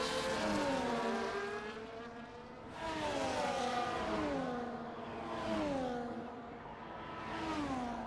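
F1 race cars, a Ferrari, a Red Bull and an Alpine, whine along a long straight at Baku in a racing video game, high engine notes rising through gear after gear with each upshift, steady and fairly close.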